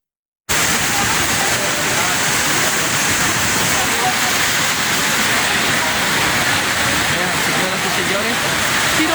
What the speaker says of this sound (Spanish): Vamos a oír el agua, cómo se arrecia